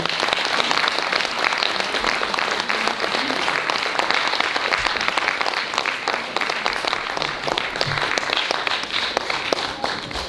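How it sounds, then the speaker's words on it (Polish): An audience gives a folk band dense, steady applause, many hands clapping loudly and continuously throughout. "Jeszcze raz, gorące brawa."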